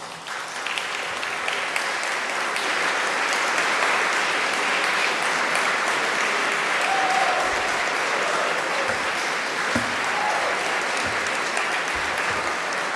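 Sustained audience applause at a summer graduation ceremony, a steady, even wash of many hands clapping that holds at full strength for the whole stretch with no talking over it.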